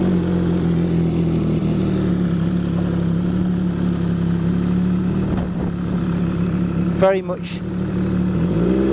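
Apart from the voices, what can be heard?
MV Agusta F3 800 motorcycle engine revving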